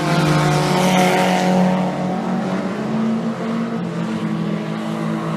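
Race cars, including front-wheel-drive and rear-wheel-drive cars, racing on Carina Speedway, a loud, steady roar of engines close by that eases slightly as they pass.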